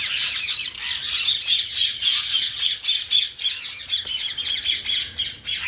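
Rose-ringed parakeets at Vandalur Zoo in Chennai squawk continuously, with harsh, overlapping high calls from several birds in a steady chorus and no voices.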